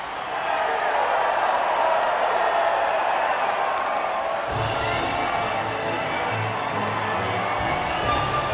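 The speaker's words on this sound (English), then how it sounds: "the reaction from the crowd must be incredibly uplifting for them" A crowd cheers and applauds at the podium in a racing video game. The steady roar of cheering runs under a commentator's voice the whole time, with deeper engine-like rumble joining partway through.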